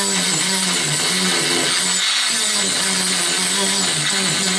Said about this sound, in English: This is a Proxon mini multi-tool. It's 100 watts, so you could take this outside.